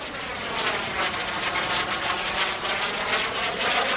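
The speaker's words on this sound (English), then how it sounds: "It's a PBS TJ100 turbojet." An FLS MicroJet with a PBS TJ100 turbojet engine flies past at an airshow, giving a steady, loud, broadband jet roar that holds without a break.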